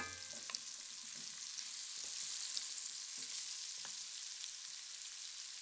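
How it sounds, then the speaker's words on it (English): Plant-based beefless tips frying in oil and non-dairy butter over medium-high heat, a soft, even sizzle with a few light scrapes and taps near the start, fairly quiet overall. "Once hot, add the oil and the non-dairy butter. Next, add the beefless tips."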